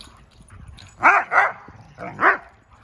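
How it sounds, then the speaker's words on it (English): A dog barks four times in two quick pairs, fairly close and loud, with a short gap between the pairs and only a quiet background otherwise. "enough with the barking."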